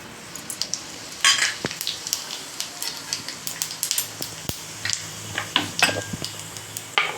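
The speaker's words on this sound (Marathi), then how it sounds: "तव्यात 1 पळी तेल टाकलेलं आहे आणि त्याच्यात मी जिरं टाकणार आहे" Cumin seeds crackle and pop in hot oil in a pan, with a steady sizzle and scattered sharp ticks and spits throughout.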